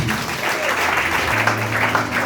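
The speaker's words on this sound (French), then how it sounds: "Est-ce que nous pouvons acclamer encore une fois?" A church congregation claps together in sustained, even applause, a dense wash of hands close by, with a low hum and faint voices underneath.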